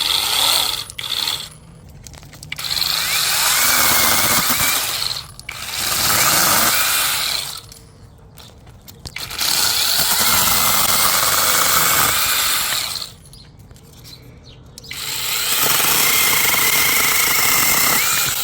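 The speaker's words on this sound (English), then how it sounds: "Alright, we got this chainsaw. Let's try it out." A small brushless mini electric chainsaw, an Imoum DLJ-6, whirs loudly in three long bursts, spinning up sharply and cutting off between runs, with brief quiet gaps.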